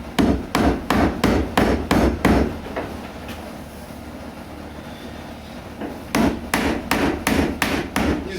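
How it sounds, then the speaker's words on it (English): Rubber mallet tapping a wooden cabin door part into place, a series of evenly spaced dull thuds, a quiet pause of a few seconds, then another quick run of knocks. "Using a rubber mallet."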